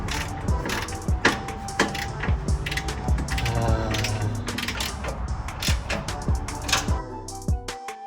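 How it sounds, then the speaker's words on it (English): Bolts on an RCI skid plate for a Toyota 4Runner, FJ Cruiser or Lexus GX being tightened with a large 11/16 wrench: rapid, steady metallic ratcheting clicks with clanks of metal, close and loud, running for about eight seconds. "Now you're just gonna get your big boy 11/16 wrench and start tightening them down."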